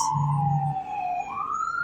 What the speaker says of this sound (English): That's what the high pitch of the sirens are.